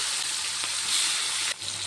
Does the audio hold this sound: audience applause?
no